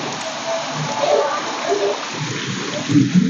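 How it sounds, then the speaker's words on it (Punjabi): Heavy rain falls in a steady, close hiss with scattered splashes, holding at an even level throughout and swelling slightly near the end, with voices faintly present. "ਮੀਂਹ ਮੀਂਹ ਆ ਗਿਆ ਕਿੰਨਾ ਬਹੁਤ ਜ਼ਿਆਦਾ"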